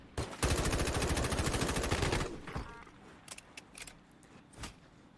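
Rapid automatic gunfire from a Warzone Mobile match, a dense sustained burst for about two seconds, then scattered single shots and thuds at lower level.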